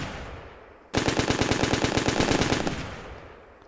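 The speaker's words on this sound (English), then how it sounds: "here's the light machine gun team." A light machine gun team fires in the combat simulator game Steel Beasts Pro, one sustained automatic burst of rapid, evenly spaced shots lasting close to two seconds, loud against a quiet ambient background.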